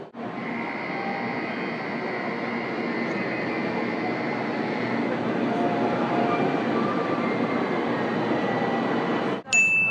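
A steady, smooth rumble with a constant whine fills the space, riding inside the Hikari Shinkansen bullet train to Tokyo Station, ending with a brief clunk.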